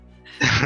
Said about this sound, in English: Tough luck, you're still coughing.